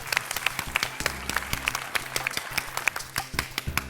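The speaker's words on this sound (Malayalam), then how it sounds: "ഇനിയാണ് കൈയടിച്ച് പ്രോത്സാഹിപ്പിക്കുക" Audience applause for a stage magic act on a comedy show, a steady patter of clapping from a sizable crowd with sharp individual claps standing out, sustained throughout.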